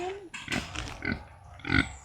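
A pig grunts and snorts several times in short bursts, close and fairly loud, at a rural home plot planted with crops including durian.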